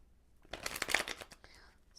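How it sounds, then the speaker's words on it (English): Tarot cards riffled and shuffled in the hands, a short burst of papery flutters with a brief snap, close and soft, a stiff deck resisting. "Oh, my deck does not want to shuffle anymore."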